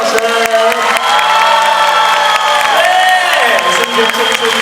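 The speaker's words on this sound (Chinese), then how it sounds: "给自己一个掌声加尖叫声。" Concert audience at a live singing show in Kaohsiung applauding and screaming, a dense, loud wash of clapping and cheering with sustained shouts running throughout, with music playing beneath.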